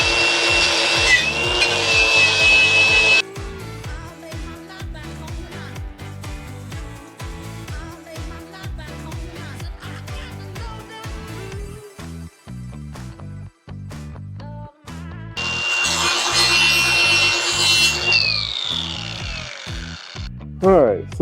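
A wooden frame is sanded by hand in two loud bursts of rough, gritty scraping at the start and again later, separated by quieter shuffling and handling sounds.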